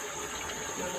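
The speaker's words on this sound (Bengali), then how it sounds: "এখন একটু জল অ্যাড করবো।" Water poured into a cooking pan of bitter gourd and hilsa fish curry, a short, faint, steady splashing hiss.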